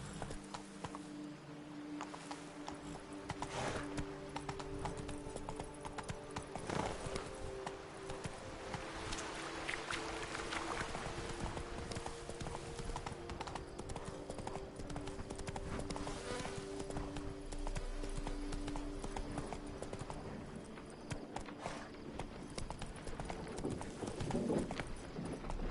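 Hooves of a galloping horse in The Witcher 3 drum in a fast, steady clip-clop rhythm that runs without a break for the whole stretch, fairly close and at moderate loudness.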